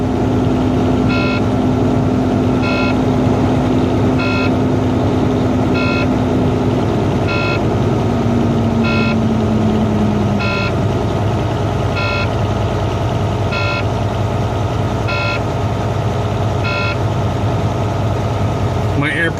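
A Knight Transportation truck's heavy engine idles steadily nearby with a low rumble, a faint tone fading out partway through, and regular short beeps repeating at even intervals.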